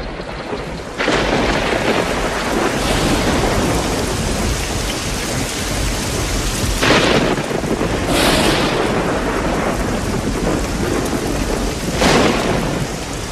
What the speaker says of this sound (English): now a tremendous storm is brewing.